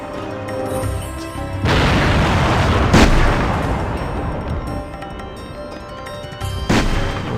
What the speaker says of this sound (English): we're also encountering super soldiers with some sort of large cannon